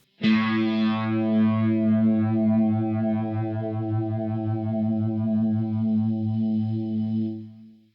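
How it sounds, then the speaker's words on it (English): A sustained electric guitar chord rings out through a TC Electronic PlethoraX1 Univibe effect, its swirling, pulsing wobble shifting in speed via the foot switch as the note slowly decays. "by pressing harder or softer on the foot switch, I can control the speed of the univibe"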